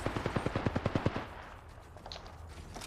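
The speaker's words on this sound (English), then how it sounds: "They're definitely shooting at me." Rapid machine-gun fire from enemy players in a video game fight, about a dozen sharp evenly spaced shots in a quick burst, then it breaks off into quieter background noise with faint scattered sounds.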